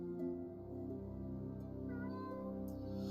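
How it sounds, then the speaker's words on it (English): A house cat meows at a closed door indoors, a few drawn-out meows rising over steady low background hum and music-like tones, fairly close and clear. "She's meowing at the door."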